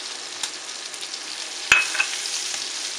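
Garlic fries alongside browned pork in a hot pan with a steady, close sizzle, broken by a sharp clink of a utensil and a few stirring scrapes.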